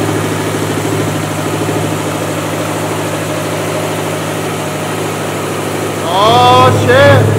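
A big-turbo Subaru STi engine idles steadily and close, a continuous low rumble with coolant smoke around; near the end a loud high whine rises and sweeps in pitch over the running engine.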